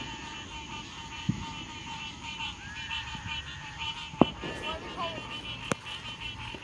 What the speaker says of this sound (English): Those are toads.